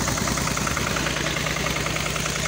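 A tractor engine runs with a steady, throbbing low chug, close and continuous throughout.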